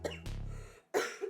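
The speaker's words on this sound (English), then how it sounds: "I'm gonna cough some more." A person coughs close up, a harsh throaty burst followed after a brief pause by another sharper cough, in an otherwise quiet indoor setting.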